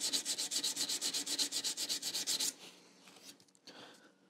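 Brass frets on a stringed instrument are polished by hand in rapid, rhythmic rubbing strokes, about a dozen evenly paced scrapes over two and a half seconds, followed by quieter scattered handling sounds.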